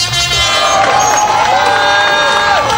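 At the Critérium des Cévennes rally, a crowd applauds and cheers the drivers on the podium in a dense, continuous roar. Music runs loudly through it, and a horn may toot.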